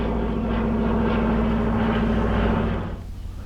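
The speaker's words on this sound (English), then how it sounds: "There's that annoying plane that's making all the noise." A plane drones steadily overhead in a winter outdoor setting, a loud continuous low rumble that holds for most of the moment before fading slightly at the end, with no talk.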